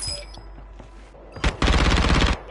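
Gunfire in a first-person shooter video game: after a few faint clicks, a single loud shot rings out, then a rapid, close burst of automatic fire that stops abruptly.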